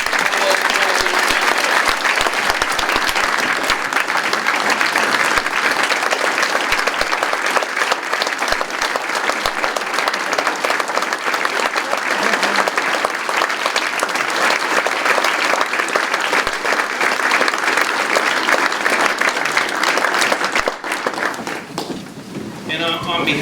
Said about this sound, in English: Ladies and gentlemen, last time, a round of applause for Carly.